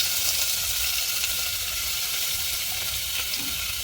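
Onion, garlic, ginger and green chilli sizzle in hot oil in a pan for a chicken stew, a steady bright crackling hiss with no talk.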